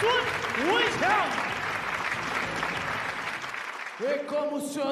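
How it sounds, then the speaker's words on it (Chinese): Crowd applause fills a kickboxing fight venue in Portugal, a dense steady roar of clapping and cheering that drops away near the end as an announcer's voice comes in. "掌声送给孙维强。"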